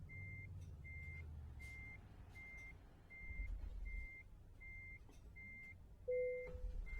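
Tesla Semi truck in American Truck Simulator reversing, with a steady train of evenly spaced high beeps over a low rumbling engine, and a brief louder tone near the end.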